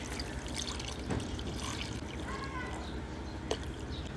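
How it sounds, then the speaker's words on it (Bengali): Water poured into a bowl of cut potatoes sprinkled with salt, a soft, low trickling splash heard close and fairly faint against background hiss, with a small knock near the end. "আর দেব জল।"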